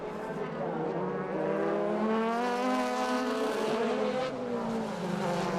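DTM touring cars, a Mercedes and a damaged Opel, race side by side, their engines screaming loud and close with rising and falling pitch as they pass, a commentator's voice faintly underneath.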